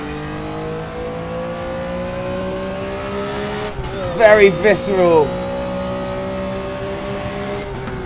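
A race car engine in the RaceRoom racing sim drones steadily at high revs, then briefly revs and warbles before settling back, loud and close, with a voice speaking over it.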